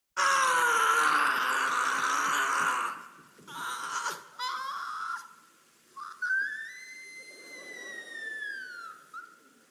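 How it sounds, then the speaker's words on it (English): A performer in Hetalia: The Musical screams on stage: a loud, strained, sustained cry for about three seconds, followed by shorter rising and falling vocal sweeps and a thin, whistle-like high tone. "Also him screaming"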